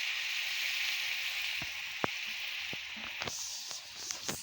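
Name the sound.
bitter gourd slices frying in a pan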